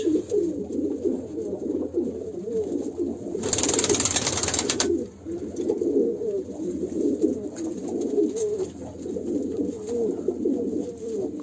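Pigeons coo repeatedly on a rooftop terrace loft, a steady chorus of low rolling calls from several birds nearby, interrupted by a short burst of hissing noise partway through.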